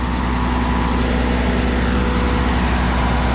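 A Haybuster straw chopper with a roughly 500-horsepower Cat engine runs steadily nearby, a loud, constant low diesel drone with no pauses and no voices.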